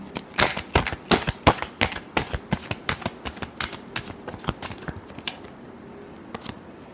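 A deck of tarot cards is shuffled by hand, a quick run of sharp, crisp snaps and clacks close by that slows and thins out toward the end, with no talking.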